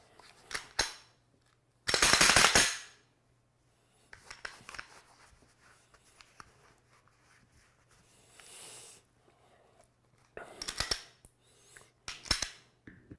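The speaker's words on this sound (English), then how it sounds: "I'm going to work the slide some more" A Glock 17 pistol slide racked by hand a few times after cleaning, sharp close metallic clacks in separate bursts with quiet handling between, no talking.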